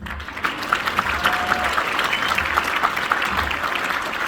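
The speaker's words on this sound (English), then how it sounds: "All this applause is for you." Theatre audience applauding a magic and music stage show, a full steady wash of clapping from many hands that holds throughout without a break.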